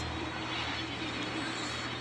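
Airplane passing during snowfall while plane spotting at GR, a steady moderate engine roar and rumble, with voices faintly mixed in.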